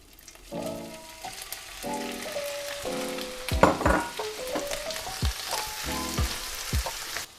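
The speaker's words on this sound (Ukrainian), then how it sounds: "Я їх трохи підсмажу на вершковому маслі." Shrimp frying in butter with garlic in a pan, giving a steady close sizzle with a few louder crackles and stirring sounds, under melodic background tones.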